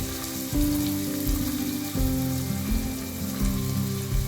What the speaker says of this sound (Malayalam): ഇതെല്ലാം നല്ലപോലെ ഒന്ന് ഫ്രൈ ചെയ്യണം.